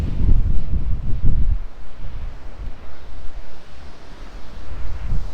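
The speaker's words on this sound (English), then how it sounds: "It's really windy today." Strong wind blowing by the Red Sea, loud gusting roar buffeting the microphone with a low rumble, heaviest in the first second and a half then a steadier rushing blow, no talking.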